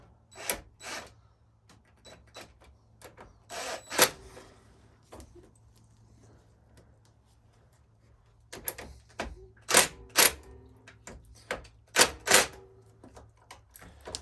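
A T40 driver tightens motorcycle hand guard bolts, giving scattered sharp metallic clicks and clunks in short clusters, close and fairly loud over a low steady hum, with no talking.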